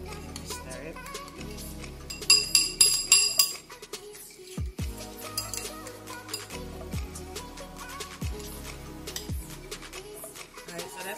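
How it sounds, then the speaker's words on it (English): A spoon stirs oatmeal in a glass bowl, giving a quick run of light clinks and scrapes, then softer stirring, with a person talking over it. "Stir it."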